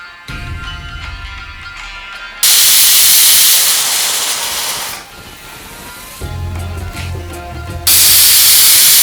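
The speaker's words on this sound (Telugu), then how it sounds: "ఇప్పుడు మనం కుక్కర్ మూత పెట్టుకొని 4 విజిల్స్ వచ్చే వరకు ఉడికించుకుందాం" A pressure cooker on a home stove boils lentils for sweet ghee flatbreads, letting out loud bursts of hissing steam whistle that cut in abruptly and stop, alternating with quieter kitchen background between blasts.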